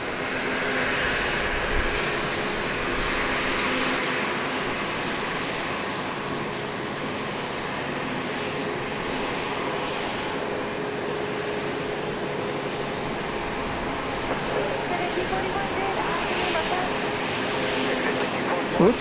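A passenger airplane taxiing at Dallas Love Field gives a continuous engine whine and rumble at moderate distance, holding steady throughout.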